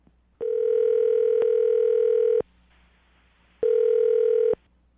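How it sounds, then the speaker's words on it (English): A telephone line gives two long electronic ringing tones, clear and loud, separated by a short quiet gap, with no voices. "I'm going to dial the phone number right now"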